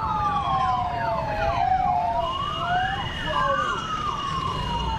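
An escort vehicle's siren wails behind a roller-skating rally on the road from Varanasi to Lucknow, its rising and falling tones steady and fairly close over traffic rumble for the whole stretch.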